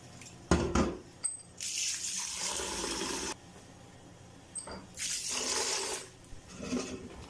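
Water runs and splashes in bursts, with pauses between, close by and fairly quiet, as rice is rinsed in several changes of water.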